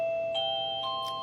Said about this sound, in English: that's what our bell sounds like.